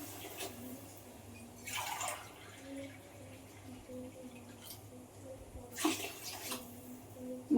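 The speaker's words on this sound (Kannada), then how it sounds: "ಈಗ ಅದಕ್ಕೆ 3/4 ಲೋಟ ನೀರು ಹಾಕ್ಕೊಳ್ಳೋಣ." Water from a glass is poured onto rice for biryani, giving intermittent splashing bursts with a drip-like trickle between them, fairly close, under occasional talking.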